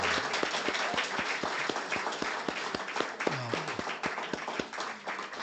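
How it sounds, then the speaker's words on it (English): An audience applauds the speaker at the end of an evening memorial lecture, a dense, sustained round of clapping from a sizable crowd with a few distinct nearby claps punctuating the steady wash. "Let's give our speaker another round of applause."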